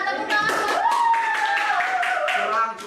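A class claps hands in a quick patter of sharp claps, close and fairly loud, with voices talking over it.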